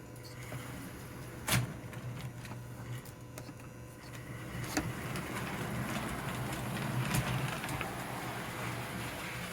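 A restored 1948 or 1950 #350 model train engine runs along its track pulling a caboose, a steady close rolling rumble with light clicking and a few sharp clacks, rising slightly in level toward the end.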